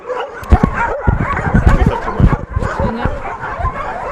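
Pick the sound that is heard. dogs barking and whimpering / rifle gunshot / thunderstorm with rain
dogs barking and whimpering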